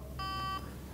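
Power-on beep of a Motorola MicroTac 650e mobile phone: a single electronic tone lasting under half a second, clear and fairly loud over faint background hiss, with no talking.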